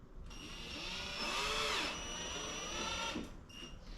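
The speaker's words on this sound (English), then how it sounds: "With my 4 holes marked, I'm just going to go ahead and drill those out." A power drill whines as it bores holes into a workpiece on a workbench, its pitch rising and falling over a few seconds, nearby and fairly loud.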